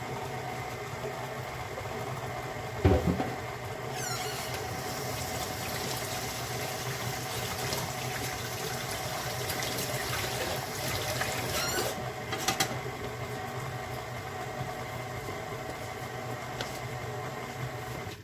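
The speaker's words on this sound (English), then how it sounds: "Now I'm going to put this paddle back on here and see if it will mix it up for us" An electric mixer with a paddle attachment churns fruitcake cookie dough, giving a steady, loud motor hum and whir that runs without a break, with a brief knock near the start and another bump later.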